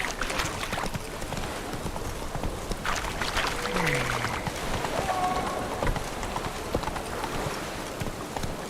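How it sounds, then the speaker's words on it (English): Hooves of a horse gallop in The Witcher 3 video game, a fast continuous clip-clop drumming over rough ground, steady and close, with brief game voices and effects mixed in. "Whoa! Whoa there, Roach."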